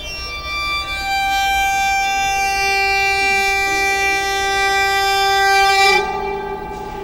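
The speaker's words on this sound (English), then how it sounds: "This oak block clamps the string, and the vibration comes in, is blocked off, and shoots back down to the resonator and ignites that with sound." A very long string instrument, its string clamped by an oak block and feeding a resonator, rings with a sustained, bright harmonic drone that holds steady and then shifts near the end, loud and close with no voices.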